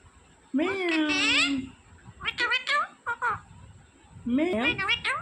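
A green parrot gives several drawn-out, meow-like calls imitating a cat, close and loud, with short gaps between the bursts of harmonic, wavering squawks.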